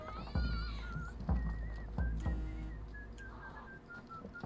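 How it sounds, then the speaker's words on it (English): Tuneful whistling in the pirate video game Sea of Thieves, several rising and sliding whistled notes over low thumps and background game noise. "Fucking whistling."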